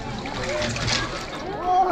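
Splash of water as someone jumps in at Coto Mines, Zambales, a short wash of sloshing water under voices and camping chatter.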